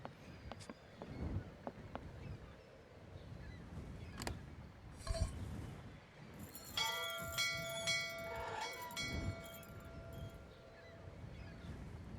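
A bell struck at a bell stand in the video game Syberia, with a faint, ringing metallic tone that sustains and decays among quiet ambient sounds and scattered clicks.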